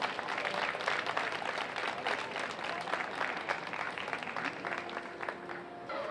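A fair show audience claps for a pageant queen and her court, a steady moderate round of applause from a crowd, with faint talk in the background.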